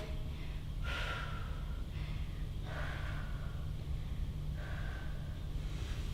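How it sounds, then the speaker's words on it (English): Heavy breathing during a cool-down stretch after an indoor bootcamp workout, drawing in through the nose and out through the mouth: three slow, close breaths about two seconds apart over a steady low hum, with no talking. "Breathing in through your nose and out through your mouth."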